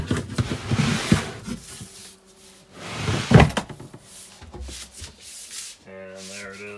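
A Nature's Head composting toilet sliding on Teflon or felt feet into its compartment in a Promaster van, a rough scraping rub with wooden knocks, ending in a faint tonal hum.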